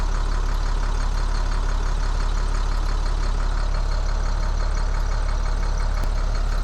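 A truck engine idles steadily at close range on a single battery, a constant low rumble with no voices.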